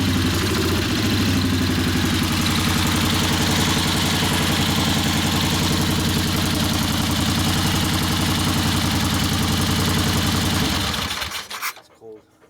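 A 1964 Harley-Davidson XL 900 Ironhead Sportster, running on one cylinder, idles loudly and steadily with a rough, rapid pulsing thump, then cuts off abruptly near the end.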